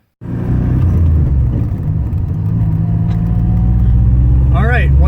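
Biturbo car engine running steadily after a catalytic converter rebuild, a continuous loud low rumble close by, with a faint rising whine near the end.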